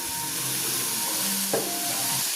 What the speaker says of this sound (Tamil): நல்லா வதக்கிக்கலாம். தக்காளி சேர்த்துக்கலாம், உப்பு சேர்த்துக்கலாம், புளி சேர்த்துக்கலாம்.